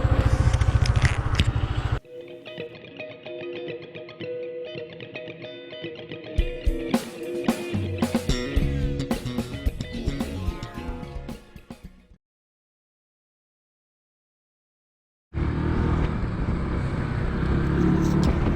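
A 14-year-old Yamaha Maxam 250 (CP250) big scooter engine cranks and catches, then idles with a steady, buzzing note before cutting out to silence; a loud, broad rush of running noise then resumes.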